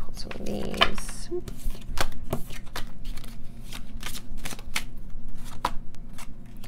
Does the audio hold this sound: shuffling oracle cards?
yes